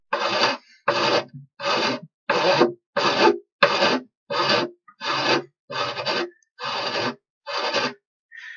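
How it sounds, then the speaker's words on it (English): A sanding block rubs back and forth over wood in about twelve even, rasping strokes, close and clear, with short pauses between each stroke. "Or just sand it with a sanding block."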